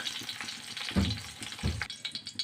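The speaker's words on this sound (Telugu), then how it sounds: "పచ్చిమిరపకాయలని బాగా ఆయిల్లో అయితే ఫ్రై చేసుకున్నాను ఫ్రెండ్స్" Green chillies frying in hot oil, a close, steady sizzle with a few louder crackling bursts as they are stirred.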